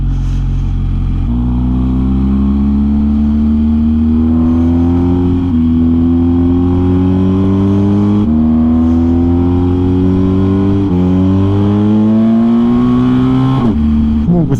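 A car engine pulls uphill in third gear on a road near a volcano in Sicily, droning loud and close as its pitch climbs steadily, easing briefly at intervals before rising again, with talking over it.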